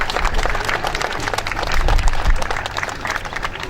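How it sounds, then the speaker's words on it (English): Applause from a crowd at a new business centre's grand opening honouring long-serving staff; loud, dense clapping swells midway and carries on with some low crowd murmur beneath. "I think they do deserve a round of applause also"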